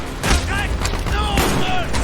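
Gunfire in Call of Duty: Black Ops: loud, dense shooting with booming bursts throughout, while voices shout over the din.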